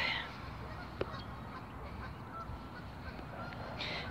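Swans calling outdoors, giving a few faint honks over a steady wash of background noise.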